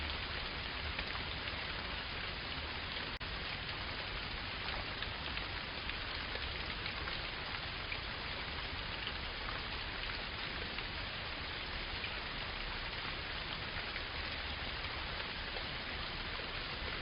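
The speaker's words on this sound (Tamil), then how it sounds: "இந்த பகுதி முழுவதும் விழுந்து கொண்டிருக்கும் அந்த சப்தத்தை கேளுங்கள். மழை நீர் பூமியில்" Steady, dense rainfall pours onto the ground in an outdoor setting, a continuous close hiss that stays even throughout with no voices.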